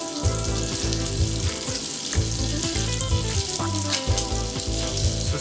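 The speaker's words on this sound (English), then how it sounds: "So as I add the masala to it, there's this lovely sizzle." Masala spices hiss and sizzle loudly in hot butter in a pan for butter garlic squid, a steady crackling fry with occasional scraping and stirring.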